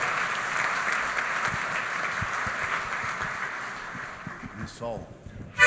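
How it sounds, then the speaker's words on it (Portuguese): A church congregation applauds at a 2015 convention, a steady broadband wash of many hands clapping that thins toward the end before a few louder voices and sharp sounds close it out. "Aplaude a Jesus, queridos."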